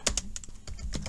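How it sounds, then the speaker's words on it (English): Several quick keystrokes on a computer keyboard as a pip install command is typed, a short burst of close, crisp clicks with no talking. "To do that, we type in pip install"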